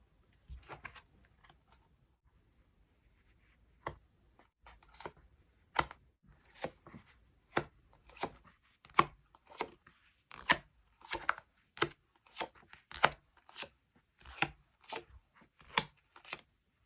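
Tarot cards being handled and laid out one by one: after a quiet start, a steady series of crisp snaps and soft slaps of cards placed near and close, with no talking.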